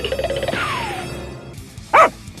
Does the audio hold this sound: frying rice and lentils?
no